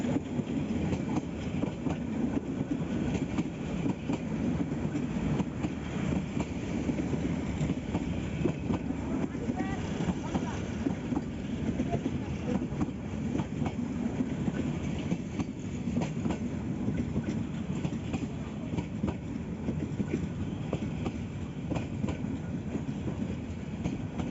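A Titas commuter train passes close by with a steady, loud rumble and clattering wheels that fill the whole stretch without letup.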